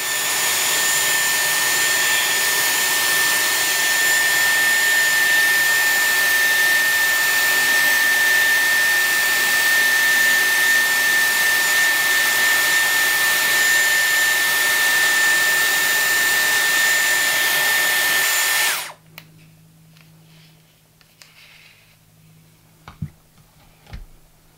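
A Dyson Airwrap hair styler runs on hair with a loud, steady airflow roar and a high whine for about nineteen seconds, then cuts off abruptly, leaving near silence with a few faint clicks.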